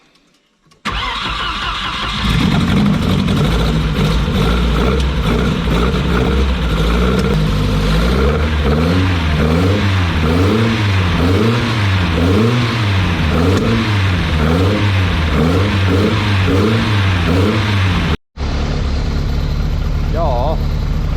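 A rally car engine cranks, catches and starts, then revs repeatedly in rising and falling bursts at close range, loud throughout before cutting off abruptly near the end; a voice is heard briefly afterward.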